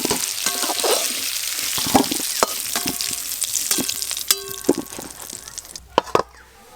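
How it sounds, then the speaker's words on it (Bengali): Potatoes fry in oil in a pan with a close, crackling sizzle, broken by a few sharp clinks and scrapes of a utensil against the pan, while a voice talks over it. "এই যে আলুগুলো আমি এইরকম হালকা লাল লাল করে ভেজে নিয়েছি,"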